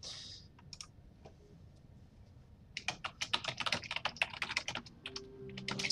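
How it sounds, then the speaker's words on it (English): Quick bursts of typing on a computer keyboard, with a few scattered clicks before a dense run of fast keystrokes, close and clear over faint background hum. "I don't know why I'm typing this in chat too"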